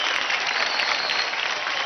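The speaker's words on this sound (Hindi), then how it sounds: "जोरदार तालियां हो जाए निधि और शाम के लिए" A studio audience at the Dance India Dance Season 4 TV dance competition gives a brief, loud, continuous burst of clapping after a dance performance.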